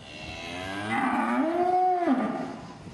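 A calf moos in one long, drawn-out call that rises and then falls, loud and close, with no speech over it.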